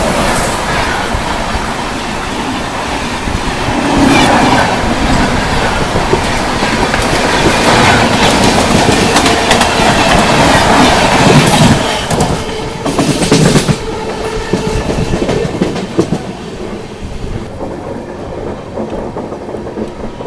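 The Tamil Nadu Superfast Express runs at speed, heard from inside a 2AC coach: a loud, continuous rumble with rhythmic clickety-clack of wheels over rail joints and a few sharper rattling bursts midway.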